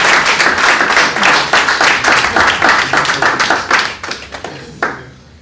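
A church congregation claps and applauds loudly and steadily, then the claps thin out into a few scattered final ones.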